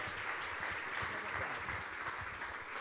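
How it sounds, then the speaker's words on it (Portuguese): Church congregation applauding steadily to welcome the pastor at a Sunday service, a dense, even wash of clapping throughout with faint voices underneath. "Aplauda Jesus, recebendo o servo de Deus com alegria."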